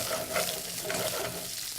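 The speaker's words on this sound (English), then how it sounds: "So we're going to kind of let that saute for a little bit?" Steady sizzling of onions and peppers sautéing in a pan, with occasional stirring scrapes over a continuous hiss.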